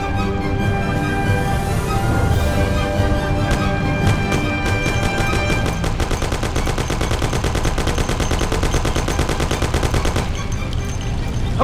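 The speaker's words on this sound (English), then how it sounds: "Thompson, you and Sam shoot them" Sustained automatic gunfire in the video game Mafia, dense rapid bursts of shots running continuously over a loud steady background, with a faster rattling stretch in the middle.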